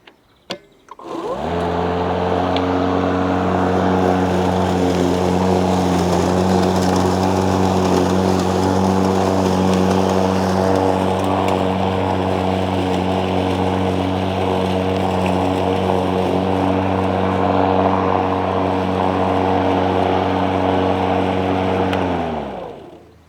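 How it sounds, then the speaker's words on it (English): A Hyundai HYM80LI460P cordless lawn mower cuts long grass with a steady, loud electric motor whine that spins up, holds evenly with a rough swish of grass underneath, then winds down at the end. "see whether this mower can cope with the longer grass"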